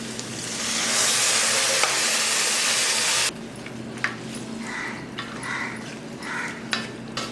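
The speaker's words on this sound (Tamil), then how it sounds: "இப்போ நம்ம அந்த மட்டனை சேர்த்துக்கலாம்" A loud sizzle as mutton hits a hot pot for Chettinad mutton uppu kari, then fades to quieter stirring with clinks and scrapes of a utensil.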